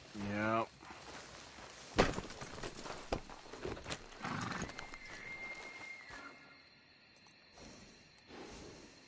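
Horses in the Red Dead Redemption II video game clop and shuffle with thuds and a swish, under game speech and sound effects, with a high tone partway through.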